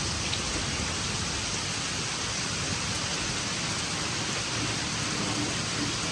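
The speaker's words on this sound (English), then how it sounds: "It is pouring rain out here." Heavy rain pours down steadily on a boat at anchor, a dense, constant hiss of drops drumming on surfaces, with no pauses.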